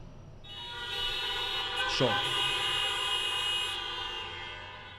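Audience members honk horns in a lecture hall, a sustained tonal blare lasting several seconds with a brief rising squeal in the middle, while a voice speaks over it.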